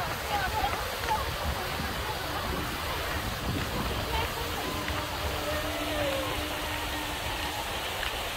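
Water splashes and washes steadily at Toronto Centre Island, a continuous broadband rush lasting several seconds, with people talking over it.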